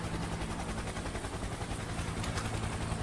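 A helicopter in the IGI 2 video game gives off a loud, continuous rotor drone with a dense, rapid beating pulse throughout, steady and close, with no voices.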